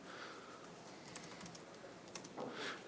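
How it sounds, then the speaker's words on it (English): Typing on a computer keyboard while entering text in the Nano editor, a steady run of light clicks at close range, with a few sharper, denser keystrokes toward the end and no talking. "And if we just start typing,"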